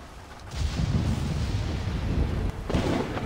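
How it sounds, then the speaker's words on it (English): Thunder rumbles through a rainstorm in the video game Flower, a dense low roar that swells early, holds steady with rushing rain, and briefly dips before another heavy rumble rolls in. "Thunder, rain, and lightning"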